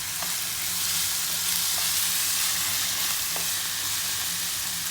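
Tomato sautéing in oil with ginger-garlic paste for a pepper chicken gravy, a dense, even frying hiss close by with a couple of faint utensil taps, no speech.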